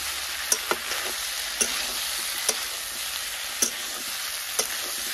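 Spices, ginger and potatoes fry in a pan with a continuous soft sizzle, punctuated roughly once a second by sharp scraping clicks of a spoon stirring against the pan, with no voices.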